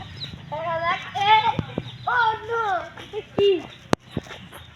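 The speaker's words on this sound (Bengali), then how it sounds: "এতে মুরগি দৌড়াচ্ছে।" Several close chickens clucking in short, rising and falling bursts as they run, with scattered thumps and clicks around them.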